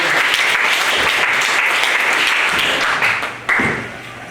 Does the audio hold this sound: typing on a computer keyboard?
no